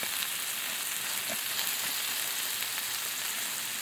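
Japanese fried rice flattened on a hot Blackstone griddle gives a constant, bright, hissing sizzle that stays even and close throughout, with no voices.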